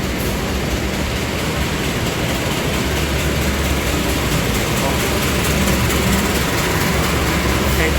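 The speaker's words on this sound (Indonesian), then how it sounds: "Hejo Parsel tengah melintas langsung di stasiun Yogya di jalur 3 ya." A parcel train runs straight through Yogyakarta station on track 3, a loud steady rumble of wheels and heavy engine that stays constant, with a low drone underneath.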